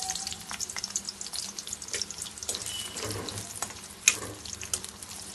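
Onions tipped into hot oil in a kadai while cooking drumstick leaves with moong dal, giving a steady crackling sizzle with scattered louder pops, close and continuous throughout with no talking.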